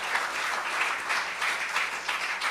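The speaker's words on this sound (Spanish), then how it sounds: "¿Cuántos pueden dar un aplauso a la gloria del Señor en esta noche?" Congregation applauding during an evening church service, a steady wash of many hands clapping close and fairly loud throughout.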